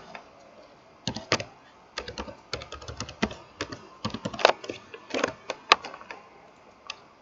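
Password typed on a computer keyboard during a hosting setup, with a close run of irregular clicking keystrokes that starts after a pause, speeds into dense bursts, then thins out; no talking.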